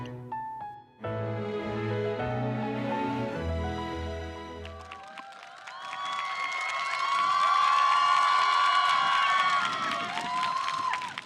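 At an outdoor youth concert stage in Yeouido Hangang Park, Seoul, a crowd applauds and cheers with whoops and shouts, swelling loudly after a few seconds of music-like tones.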